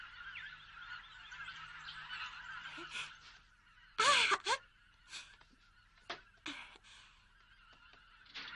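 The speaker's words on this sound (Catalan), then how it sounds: "Una altra vegada, els ànecs salvatges ja són aquí!" Wild ducks call outdoors in spring with a series of loud honking cries. Some calls are close and sharp, others fainter and farther off, with quiet gaps between them and no speech.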